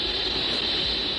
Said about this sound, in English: But the horn antenna they're using picks up constant interference.